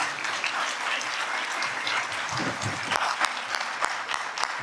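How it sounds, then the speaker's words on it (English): Audience at a 2022 mayoral debate in Stratford claps steadily and loudly for nearly five seconds, a dense even wash of hand claps with no talk over it. "please give him a nice round of applause"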